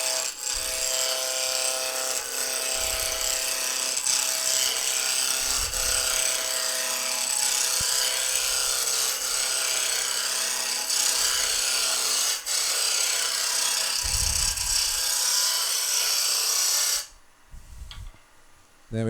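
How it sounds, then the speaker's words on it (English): Wood lathe spinning an ash spindle while a roughing gouge cuts it, a steady close whirring hum with rasping, scraping tool contact that stops abruptly near the end. "Start with the rough and gouge."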